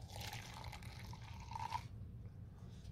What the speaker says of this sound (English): you need to get the appropriate amount of water, which means if it's pre-mixed, this soapy water, you're going to fill it up until this line.